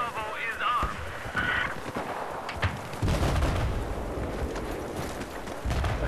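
Sniper gunfire in Battlefield 4, sharp shots cutting through a dense, noisy wash of battle sounds with faint voices mixed in.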